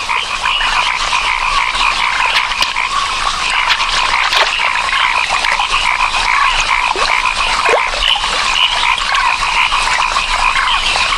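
A dense chorus of frogs croaks continuously and loudly in breeding waters, many calls overlapping without pause.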